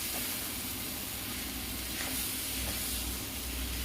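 Grated paneer frying in a pan on a high gas flame for paneer bhurji, a steady, loud, continuous sizzle and hiss with faint stirring scrapes, with no talking.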